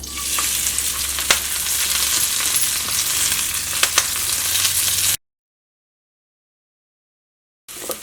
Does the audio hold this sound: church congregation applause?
no